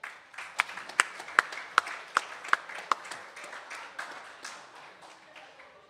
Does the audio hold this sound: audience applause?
yes